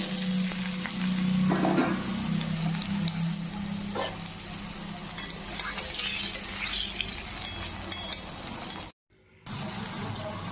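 Three potatoes fry in two spoons of plain oil in a pan, making a steady, close sizzle with soft crackles and occasional stirring, cut by a brief moment of silence near the end.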